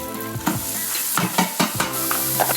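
Three quarters of a large white onion sizzles and crackles steadily in an Instant Pot, with a few spoon stirs and scrapes knocking against the pot over a continuous frying hiss, close and alone.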